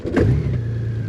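A Honda Goldwing motorcycle engine idles in neutral close by, giving a brief steady low rumble with a slight rise at the start.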